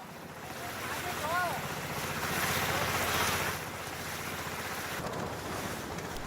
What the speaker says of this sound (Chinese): 小船伴着跳跃的鱼群，20分钟便到达了炒米洲